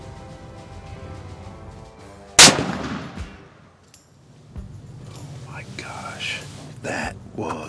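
A single loud, sharp rifle shot cracks out during a deer hunt in the woods, followed by a ringing decay. Hushed whispering is heard before the shot and low voices come after it.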